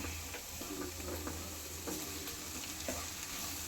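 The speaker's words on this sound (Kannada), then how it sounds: "ಮಸಾಲನ ಆ್ಯಡ್ ಮಾಡಿಕೊಂಡು ನೀಟಾಗಿ ಫ್ರೈ ಮಾಡ್ಕೋಬೇಕು" Potatoes fry with masala in a pan, a soft continuous sizzle punctuated by gentle scraping strokes of a stirring spoon, fairly quiet and close.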